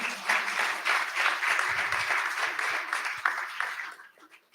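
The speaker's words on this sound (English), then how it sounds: "I think that deserves a round of applause." An audience at a transformative justice event breaks into sustained applause, a dense wash of many hands clapping together that fades away toward the end.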